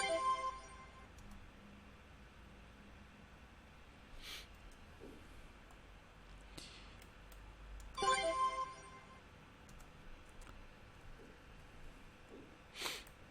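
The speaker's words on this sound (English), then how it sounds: "something like a ringing bell kind of effect towards the end" A ringing, bell-like sound effect for a game plays twice, each time as a bright tone that sustains and then fades, with faint breathy noises between the rings.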